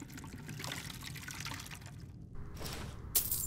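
Water pours and trickles into a vessel in a game scene at an inn: a soft, steady stream that briefly thins before resuming, with a small clink near the end, fairly quiet and without speech.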